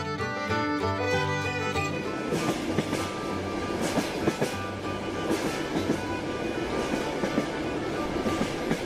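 A Mumbai local train runs along the tracks with a steady loud rumble and rhythmic clatter of the wheels, heard from inside the carriage, with a tonal hum early on.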